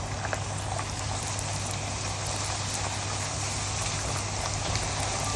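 Puri dough frying in hot oil for chole bhature, a steady loud bubbling sizzle filling the whole stretch without pause, close up and with no voices.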